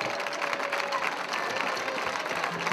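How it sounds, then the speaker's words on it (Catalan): Crowd applauding at a town festival major in Sant Celoni, a steady dense wash of clapping that holds evenly for the whole stretch, with a faint voice now and then. "jo crec que mereixem de tots un fort aplaudiment per aquest camí al Santiago"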